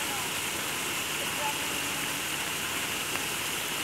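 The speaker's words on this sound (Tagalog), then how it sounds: "grabe ang ulan" Heavy rain pours beside a waterfall, a dense, constant broadband hiss and roar that fills the whole stretch evenly and steadily, with no clear gaps.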